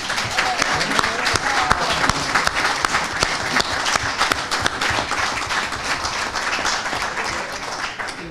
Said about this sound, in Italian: questo applauso è tutto per te.